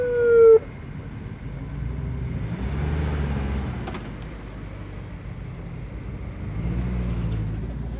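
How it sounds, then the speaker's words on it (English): A siren on a Rolls-Royce at the 2018 Gold Rush Rally in Scottsdale gives a loud, brief wail at the very start, then drops into a steady rumble of idling and passing cars. "Look at the Rolls-Royce with the siren from Team Champagne."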